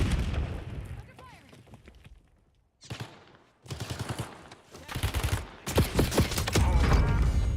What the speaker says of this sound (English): grenade. Heads up, frag.